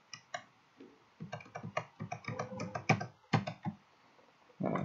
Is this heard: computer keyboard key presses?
yes